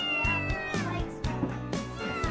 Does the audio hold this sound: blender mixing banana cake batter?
no